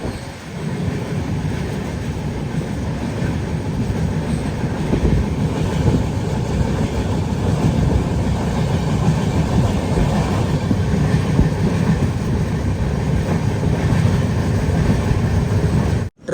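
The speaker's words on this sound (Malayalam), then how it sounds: "ട്രെയിൻ ഇപ്പോൾ തമിഴ്നാട്ടിലേക്ക് എത്തിയിരിക്കുകയാണ്" Inside a sleeper class coach of the weekly Bilaspur–Ernakulam express as it runs into Tamil Nadu, a steady, loud rolling rumble with faint rhythmic rail clatter continues throughout, with no talking.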